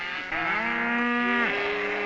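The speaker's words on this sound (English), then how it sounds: "We'll drive our cattle down to a kraal." A single long, loud moo from a nearby cow on an Arizona Strip cattle ranch, driven down to a kraal for branding, rising and then dropping away at the end, with no talk.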